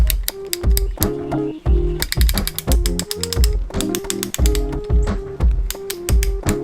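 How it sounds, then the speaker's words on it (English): Close, loud metallic clicks and ratcheting come from a torque wrench tightening bolts on a Nissan VG30 engine block during piston installation, in quick irregular bursts with short pauses between them. "Just some satisfying clicks, not gonna lie. There's my torque wrench sounded like that."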